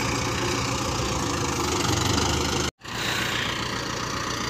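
A Mahindra Arjun Novo tractor with an RPM-drop fault idles with a loud, steady diesel rumble, cutting out for a split second partway through before resuming, with no voices.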